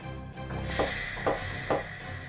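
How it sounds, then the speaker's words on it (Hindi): Three firm knocks land on a wooden door at a steady, even pace, close and clear against a quiet indoor background. "चलिए अभी दरवाजा खटखटा लेते हैं।"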